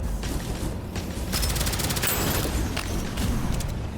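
Gunfire in the shooter game Deadzone Rogue, a dense run of rapid shots and booming impacts over a heavy low rumble, loud and close throughout.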